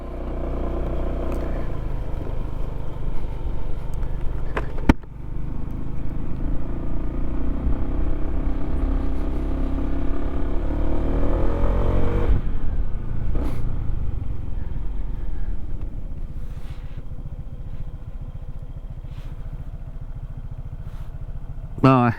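A 150cc motorcycle is ridden casually along quiet back roads, its engine a steady low rumble with wind noise that eases off midway to a lighter, gentler hum, heard from up close on the bike.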